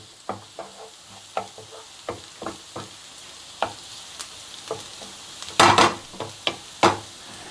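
Fish pieces tossed and stir-fried in a hot wok with garlic and chili, giving a run of sharp spatula scrapes and clanks over a steady sizzle, with one louder burst of hissing partway through.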